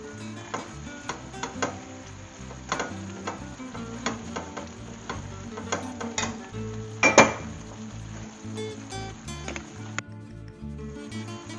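Chickpeas stirred in a pan, with a soft sizzle under repeated clinks and scrapes of a utensil against the metal, one sharper knock standing out partway through.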